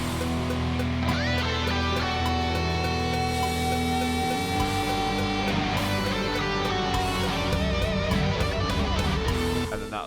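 Heavy rock guitar solo with two distorted electric guitar lines playing a harmonized lick together, loud and sustained over a full band backing, with no talking.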